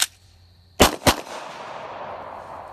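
Two sharp gunshots ring out in quick succession, close and loud, each cracking hard and then trailing into a long, echoing decay across dark open surroundings at night.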